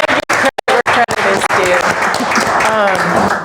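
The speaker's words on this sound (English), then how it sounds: "Could we also give another round of applause to Michelle?" An audience at an evening lecture applauds for Michelle, a brief burst of claps that swells into steady, dense clapping close by, with a voice speaking over it.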